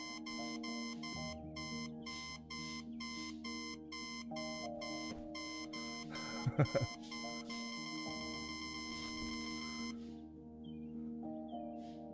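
Alarm clock in the video game Until Then ringing as a rapid, steady electronic beeping over a soft game music bed, stopping abruptly near the end.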